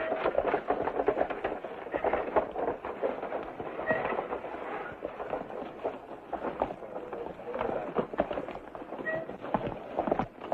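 A radio drama sound effect of horses galloping off, with a rapid, steady hoofbeat rhythm at moderate volume across the whole span, little speech heard.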